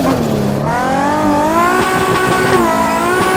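A car drifting in a driving game sends out a loud, continuous engine drone that rises and falls with throttle, layered with a steady squealing tire whine throughout, close and without any talking.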